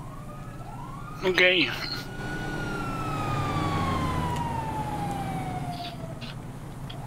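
Brush fire truck siren in the video game GTA 5: one long wailing tone that sweeps slowly downward over several seconds, preceded by a short burst of chirps, with a brief spoken word early on.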